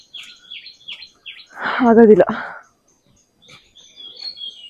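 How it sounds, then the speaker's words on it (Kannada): Birds chirp outdoors on a hillside path in short, repeated high calls, with a voice breaking in briefly at the middle and more bird calls returning afterward. "ಕೇಳಿಸ್ಕೊಳ್ಳಿ ಪಕ್ಷಿ ಸೌಂಡ್."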